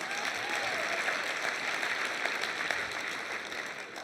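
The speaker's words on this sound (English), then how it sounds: "you can applaud, it's a great event." Gala audience applauding in a large hall, a sustained even wash of many hands clapping, moderately distant and continuous throughout.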